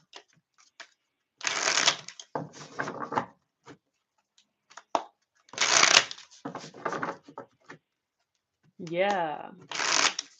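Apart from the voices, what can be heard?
shuffling a deck of cards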